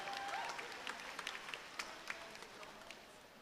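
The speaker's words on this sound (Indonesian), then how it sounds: "Boleh tepuk tangan buat Juliana Salman" Audience applause at a university graduation ceremony in a large hall, a steady wash of many hands clapping at moderate distance with scattered sharper claps standing out, continuing for several seconds.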